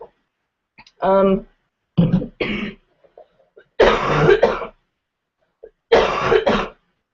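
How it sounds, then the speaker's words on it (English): Several separate bursts of harsh allergy coughing and throat clearing, close to the listener, spaced apart by short silences. "the coughing is all allergy related"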